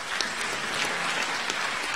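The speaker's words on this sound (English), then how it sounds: "Can clap hands." Audience applause at a university graduation ceremony in Malaysia, a steady dense wash of clapping from a large hall crowd sustained evenly throughout.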